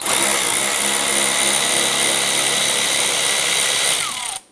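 A power tool spins out a 7mm screw on a Cadillac Escalade rear bumper, a loud, steady whirring buzz lasting about four seconds before stopping abruptly.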